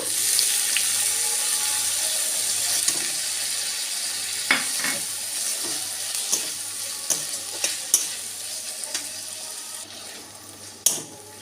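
Garlic and ginger paste frying in a pan for spinach dal, with green chili and tomato tipped in; a steady soft sizzle runs throughout, broken by several sharp clinks and stirring knocks, no talking.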